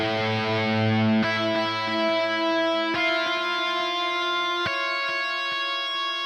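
Ambient guitar-like tones run through a Waves H-Delay set to a tempo-synced dotted eighth note at about 35 percent mix, giving sustained notes with a few sharp plucked attacks whose repeats trail off softly, with no talking.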